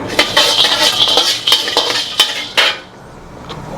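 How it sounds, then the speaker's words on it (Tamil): Grated coconut roasting in oil in a pan, metal spoon scraping and clinking against the pan in quick repeated strokes over a soft sizzle, then the stirring stops and only a faint hiss remains. "இதில் இந்த தேங்காயை தூக்கி வறுத்துடணும்"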